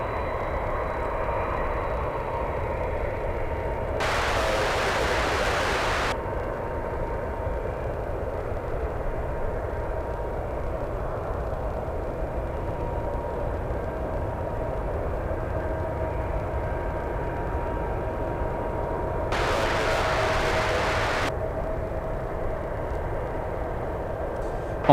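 An airliner departs runway 1R at San Francisco Airport, a steady distant roar of jet engines rumbling on throughout, with two brief louder bursts of broadband noise.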